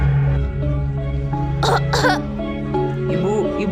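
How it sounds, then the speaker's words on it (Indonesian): A woman gives a couple of short, hoarse coughs with shortness of breath over a background of sustained music, in a school drama. "tiba-tiba ibunya batuk dan sesak napas"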